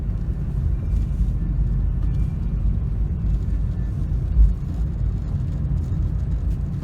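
A car with freshly repaired front end cruises along at steady speed, its engine a low, even hum with road rumble, quiet and smooth throughout with no talking.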